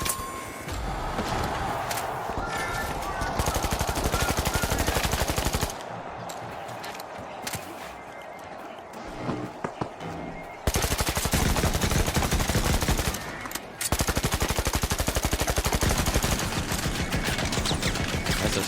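Turret gunfire in the video game The Finals: sustained rapid automatic bursts, loud and close, broken by brief pauses and quieter stretches, with no talking.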